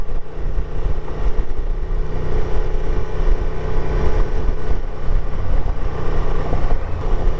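Honda Transalp motorcycle ridden along a gravelly road in New Zealand: a steady, loud engine drone with wind buffeting and continuous rumble from the tyres on loose stones, unbroken for the whole stretch.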